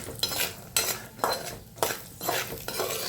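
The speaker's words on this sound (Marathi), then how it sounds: "असे छान परतू घ्यायचे, सारखे हलवत राहायचे जेणेकरून सगळे भाजले पाहिजे." Kanda poha being stirred and roasted in a pan, a spoon scraping and clattering against the metal in repeated strokes roughly every half second, with a soft sizzle underneath, close and clear.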